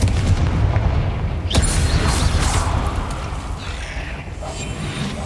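Spell blasts cast in the Hogwarts Legacy video game, heavy booming bursts with a sharp crack near the middle, loud and dense against a rumbling combat background.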